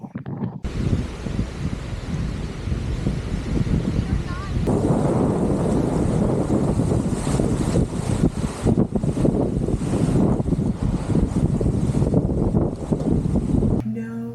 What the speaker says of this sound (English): It is entirely too windy for the lake.